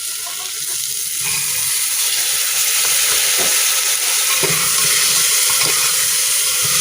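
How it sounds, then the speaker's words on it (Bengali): Potatoes and peas fry in a pan for ghugni with a loud, steady sizzle and hiss, broken by a few sharp crackles and stirring scrapes throughout. "তো দুই মিনিট ধরে আমি আলুটা ভেজে নিয়েছি এখন আমি এর মধ্যে মটরগুলো দিয়ে দেবো"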